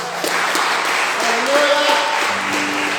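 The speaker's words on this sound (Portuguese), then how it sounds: "Aplauda Ele mais uma vez." Congregation at a Sunday church service applauding in worship, steady dense clapping over sustained keyboard chords, with a voice briefly rising above the crowd.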